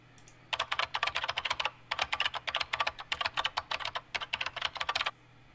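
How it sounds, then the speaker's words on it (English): Rapid typing on a computer keyboard as call center background audio: dense bursts of light plastic key clicks in uneven runs with brief pauses, close and moderately quiet over a low steady hum. "You can have interim audio, like typing on a keyboard."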